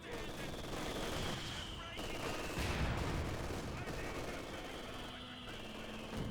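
An MG42 machine gun rattles in a Company of Heroes 2 battle on the Malmedy map, sustained bursts of rapid fire with distant explosions, heard at moderate volume under battlefield ambience.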